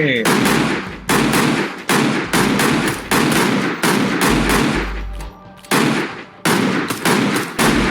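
Rapid bursts of video-game gunfire, loud and close, in repeated automatic volleys with brief pauses between them, while players talk over the shooting in a ghost-hunting game.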